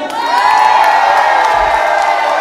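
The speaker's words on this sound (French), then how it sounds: "On applaudit également les techniciens de l'émission." A television show's studio audience cheers and whoops for the crew in a loud, sustained crowd roar with no clear individual claps.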